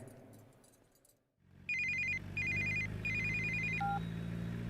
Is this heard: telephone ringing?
yes